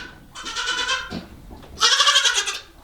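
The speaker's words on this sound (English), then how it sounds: "Hear these goats?" Goats in a barn stall screaming, two loud bleats close by, each a wavering, shaky cry, separated by a short gap.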